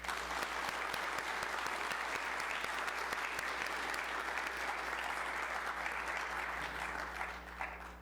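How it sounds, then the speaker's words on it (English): A congregation at Trinity UMC in Pennsville gives an Eagle Scout a sustained round of applause, thick steady clapping from many hands that tapers slightly at the end. "Let's give our Eagle Scout one more round of applause."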